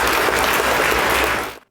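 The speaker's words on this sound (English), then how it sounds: "I love that applause." Applause sound effect played during a live music stream, a loud dense burst of clapping that holds steady for over a second, then cuts off abruptly.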